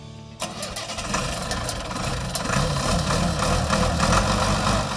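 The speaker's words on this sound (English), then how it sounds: "This week we're off to Kansas again to check out an Alice Chalmers 200" A 1973 Allis-Chalmers 200 farm tractor with about 1,600 hours starts up near the listener and settles into a steady, loud mid-pitched diesel run with a little revving, and no talk over it.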